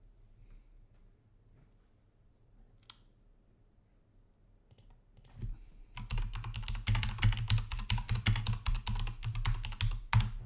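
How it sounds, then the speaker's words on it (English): Rapid typing on a computer keyboard starts after a quiet stretch with a few stray clicks, then continues as dense, close, steady key clatter to the end, with no talk. "So just typing in there."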